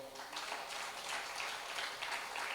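Sustained applause from an audience at a church talk, steady dense clapping filling the whole stretch without a break, moderately distant and even in level.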